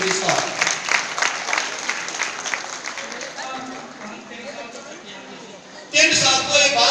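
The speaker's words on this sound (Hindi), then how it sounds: "आइए ताली बजा के प्रभु महिमा देंगे" A church congregation claps in praise during a worship service, dense, loud applause that fades over several seconds, with voices and chatter mixed in, then swells again abruptly near the end.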